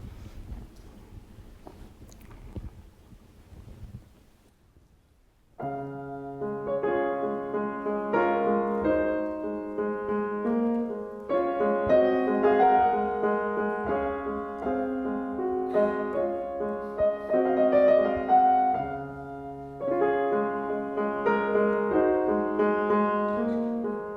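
Solo piano plays a gentle, pleasant 1890s-style piece with flowing chords and a melody, steady and full, after a few seconds of quiet rustling at the start.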